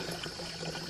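A small trickle of spring water flows out at night on a farm, making a steady, soft splashing and gurgling wash with no voices.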